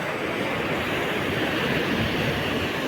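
Autumn sea waves wash in as a continuous, dense surf roar, loud and close, with a faint wind hiss and no voices.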